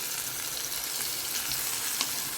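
Sesame seeds sizzle in hot oil with a dense, steady crackling hiss and a few small pops, close and continuous, with no voices.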